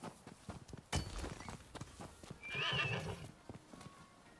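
A horse in the video game Nioh snorts and whinnies, with clip-clopping hooves walking before and around a louder neigh midway, all fairly close and fairly quiet.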